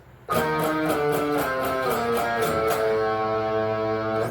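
Guitar plays the octave part of a song, a steady run of picked notes with a regular rhythmic pulse, close and clear, alone without any voices.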